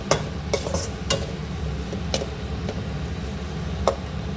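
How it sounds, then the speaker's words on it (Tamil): A spoon stirs coriander leaves into curd rice in a pan over a low flame, with soft continuous scraping under a faint sizzle and a few sharp clicks of utensil on metal. "கொத்தமல்லி கீரை போட்டு நல்லா ஒரு பெரட்டிட்டு"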